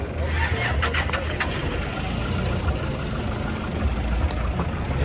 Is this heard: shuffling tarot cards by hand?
no